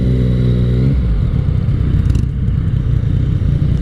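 A 2017 Yamaha FJ-09 motorcycle being ridden, its engine droning loud and close, with the pitch shifting as it changes speed, and wind rush over the engine.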